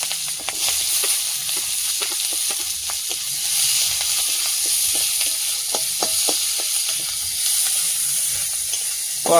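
Onions sizzle steadily in hot oil in a wok, a continuous frying hiss broken by scattered crackles and light scraping, close and fairly loud with no talking.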